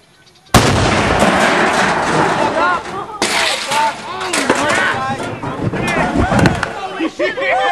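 A car airbag taken from a Mazda detonating inside a washer on a farm: a sudden loud blast followed by sustained roaring, crackling and popping as it burns, with a second sharp burst partway through.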